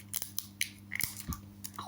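Fingernails being bitten off, a few small sharp clicks and crunchy snaps at very close range, quiet and irregular, with a low steady hum underneath.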